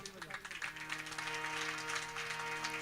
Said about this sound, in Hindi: तालियों बजेवा के तो ढंग से ताली बजाओ।